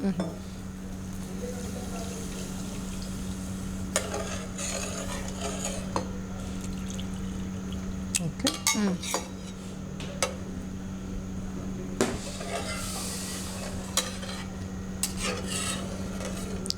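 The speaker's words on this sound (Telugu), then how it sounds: "ఇది కలుపుతూ ఉండాలా సార్ అడుగు పట్టే కలుపుతూ కలుపుతూ ఉండాలండి" Milk being stirred continuously in a pan over a low flame while making phirni, a soft repeated scraping of a spoon against the metal bottom with a low burner hum and people talking intermittently.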